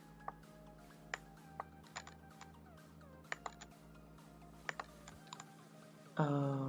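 A computer keyboard is typed on in sparse, quiet clicks, single taps and short bursts spread across a hushed room, ending in a brief louder, tonal sound.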